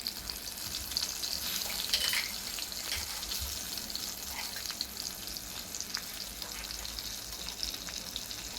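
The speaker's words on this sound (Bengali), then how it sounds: "তো এবার আমাদের তেল গরম হয়ে গেছে, দিয়ে দিচ্ছি পটল।" Sliced pointed gourd frying in hot oil in a kadai over a wood-fired stove, a continuous bright crackling sizzle held at a fairly low level, with a few faint clinks, no voices.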